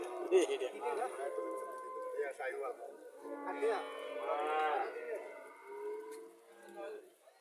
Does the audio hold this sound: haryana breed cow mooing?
yes